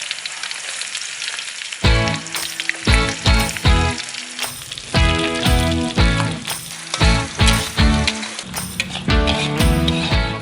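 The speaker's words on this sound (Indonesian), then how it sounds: "Siapkan minyak goreng, lalu tumis irisan bawang merah dan putih sampai tercium aroma harum." Sliced shallots and garlic sauté in hot cooking oil, giving a loud, close sizzle broken by repeated clinks and scrapes of a utensil stirring against the pan.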